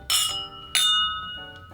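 Two whisky glasses clink twice in a toast, bright ringing chimes with a long shimmering decay, followed by a fainter third tap; close and clear, no talking over them.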